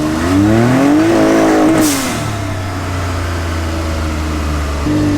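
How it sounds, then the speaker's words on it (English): An off-road vehicle's engine revs hard at full throttle, rising in pitch, then drops to a steady lower drone before picking up again at the end, loud and close with no talk. "I'm gonna floor it a little bit."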